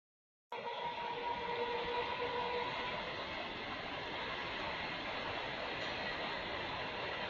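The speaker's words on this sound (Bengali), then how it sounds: "দেখো, কি সুন্দর প্রকৃতির মাঝখান দিয়ে যাচ্ছে সেই ট্রেন।" A train runs between crop fields and garden houses in open countryside, heard from on board. A steady rumbling roar starts abruptly and holds evenly to the end, with no voices.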